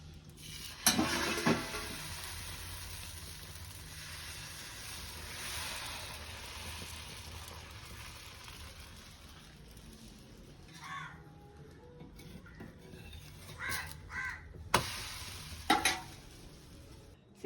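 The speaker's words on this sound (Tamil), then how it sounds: "தோசை சுட போகிற மக்களே" Dosa cooking on a hot pan gives off a steady, close sizzle with stirring and scraping, and a few sharper scrapes and clatters toward the end.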